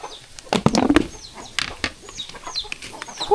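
Chickens cluck near a rice field, with bursts of wing flapping and scattered calls from nearby birds, loud and close, with no talking over them.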